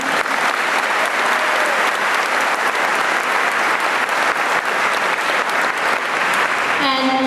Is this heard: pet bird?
no